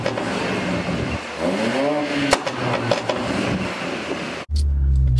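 A car engine revs through loud exhaust pipes, with a steady roar and a rising rev partway through, then a short cut before the exhaust opens into a deeper, heavier rumble.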